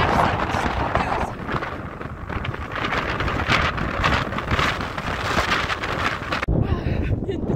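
Strong gusting wind buffets a walker on an open road in rainy weather, a loud steady roar with rain-like hiss across the whole stretch, easing abruptly near the end.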